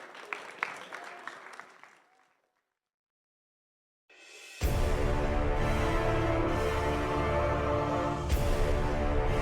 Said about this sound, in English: big round of applause for Alliance